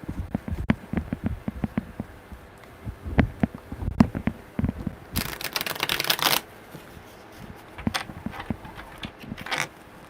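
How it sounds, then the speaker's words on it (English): A deck of tarot cards shuffled by hand: scattered soft taps and slides, then a sustained burst of riffling cards, then more light tapping, close and quiet with no talk. "It needs one more good shuffle."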